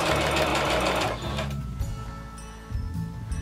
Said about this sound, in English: And we're going to sew down our waist.